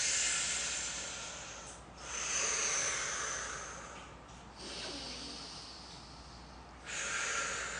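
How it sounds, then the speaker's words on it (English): Slow, deep breaths during a fascia facelift exercise, close and airy, with long hissing inhales and exhales in a steady rhythm separated by brief pauses. "now I'm just going to move and breathe"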